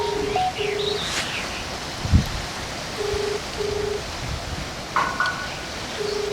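Repeated electronic beeps in short bursts, like a phone dialing or ringing tone, over steady background noise with faint bird chirps.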